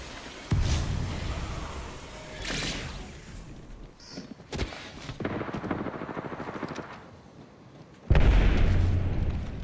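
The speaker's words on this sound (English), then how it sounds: "Thermite grenade out." Thermite grenade going off in the Apex Legends video game, heard as several loud booming bursts that recur, with the heaviest blast near the end, set within steady battle noise.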